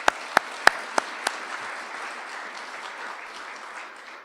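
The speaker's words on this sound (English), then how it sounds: "a round of applause for Shane on his promotion" Audience at a company awards ceremony clapping for an employee's promotion: a few loud, separate near claps open, then softer scattered applause carries on and slowly thins out.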